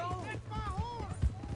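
A horse gallops away in the Red Dead Redemption 2 video game, its hoofbeats thudding in quick rhythm beneath music and voices talking over it.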